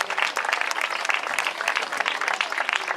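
Spectators at a falconry bird show in Valencia's Oceanogràfic give a hooded vulture a loud round of applause, with dense, sustained clapping close by.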